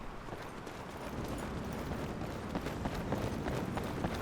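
Horse hooves gallop steadily in the video game Skyrim, a fast, continuous drumming of hoofbeats heard up close under broadband noise, with no clear talk.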